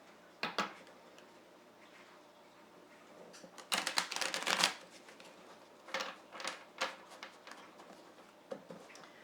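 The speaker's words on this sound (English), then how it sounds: "I'm going to go ahead and shuffle the cards" Stiff, little-used Chinese tarot cards shuffled in several quick riffling bursts, crisp and close, with short pauses between, no talking.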